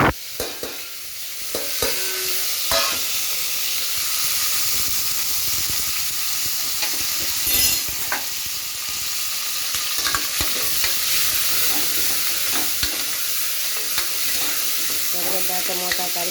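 Chopped onion, tomato and curry leaves fry in hot oil with mustard seeds, giving a continuous loud sizzle and hiss with occasional stirring scrapes and clinks, close up throughout.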